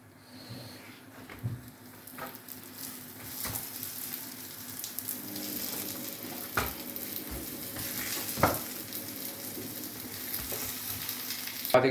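Two roti cooking in a small pan with a steady crackling sizzle throughout, broken by occasional sharp clicks and scrapes as the bread is turned.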